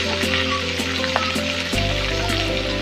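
Turmeric masala frying in a hot pan, a steady close sizzle with faint stirring scrapes throughout, growing louder and denser near the end, with no voices.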